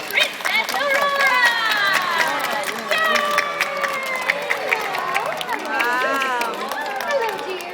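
An audience greets Princess Aurora, the Sleeping Beauty character, with excited high-pitched cheering and shouting over scattered clapping, many voices overlapping loudly and close.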